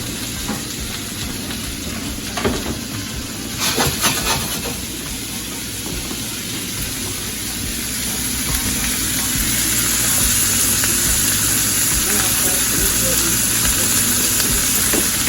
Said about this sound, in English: I add all my vegetables inside. Let that saute for about 5 minutes.